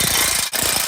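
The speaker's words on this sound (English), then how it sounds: "I just zip these things down with the impact as tight as she'll go" An impact wrench hammering flywheel bolts down tight on a Ford Thunderbird SC turbo engine, a loud rapid rattling burst close by with a brief break midway.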